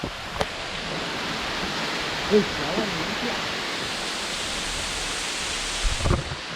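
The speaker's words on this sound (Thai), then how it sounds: "ตรงนี้มันเป็นน้ำตกพิศวงนะ" A waterfall in a cave area along a Thai forest motorbike route produces a steady, dense rushing roar of water, with a few faint brief knocks over the top.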